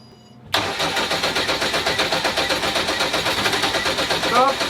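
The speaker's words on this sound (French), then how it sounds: "Tu vas redémarrer." A diesel engine cranks and fires up after a new injection pump is fitted, then runs loud and close with a steady rapid knocking rhythm; voices speak over it.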